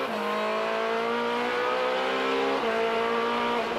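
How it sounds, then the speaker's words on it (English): A Ferrari race car at the Rolex 24 at Daytona, its engine holding a loud, steady high-revving wail with a brief gear-change dip, close and constant, with no talking. "Unmistakable sound of a Ferrari."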